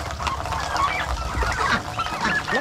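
Farm turkeys give a flurry of close, overlapping gobbling and honking calls, several birds at once over a short stretch, with faint background noise and no talk.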